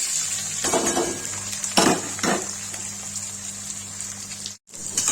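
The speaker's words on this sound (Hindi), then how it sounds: "जीरा डाल दिया। तड़क गया, इसमें डालेंगे प्याज" Cumin seeds crackling in hot oil, then onions dropped in to sizzle, giving a steady hiss with a few sharp spattering bursts, close up in a home kitchen.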